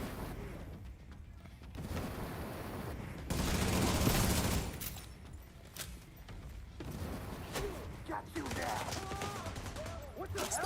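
Rapid bursts of video game gunfire crackle in dense volleys, swelling and easing across the scene amid other game effects, with no one talking over it.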